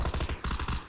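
Video game gunfire comes as a rapid automatic burst of about eight close, punchy shots in two quick strings, loud and alone with no voices.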